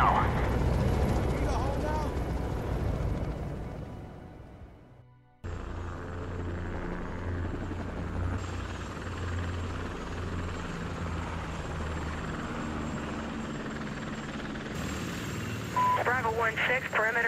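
Chinook helicopters in the Medal of Honor video game thrum as a steady, loud rotor drone that cuts in after a brief dip and holds throughout, with voices talking over it.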